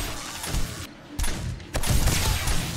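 Shotgun turrets firing in 7 Days to Die, a rapid series of harsh overlapping blasts and crackling bursts with short gaps between volleys, loud and dense throughout.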